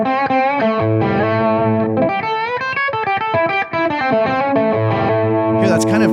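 Electric guitar through a Tonex XTC power amp model on the D2 HD setting, distorted chords and single-note lines played loud and continuous, with a brief bright squeal near the end.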